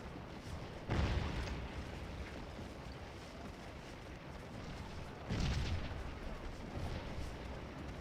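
Canister rounds fired from Civil War cannons in the Gettysburg battle game Scourge of War: Gettysburg Remastered, heard as two heavy booming blasts several seconds apart over a steady low battlefield rumble.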